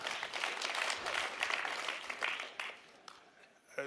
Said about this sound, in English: don't rush to give me a big round of applause